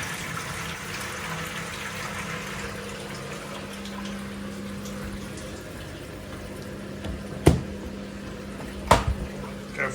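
Water rushes steadily into a Daewoo DW900C washing machine during a sheets load, a continuous filling hiss with a low hum beneath it and a couple of sharp clunks near the end.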